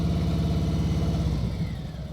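A motorcycle engine idles with a steady low, rhythmic putter, close and fairly loud, fading slightly toward the end.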